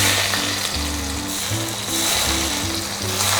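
Hot oil poured over chili for Sichuan boiled fish, giving a loud, steady, crackling sizzle that lasts the whole moment, with music playing underneath.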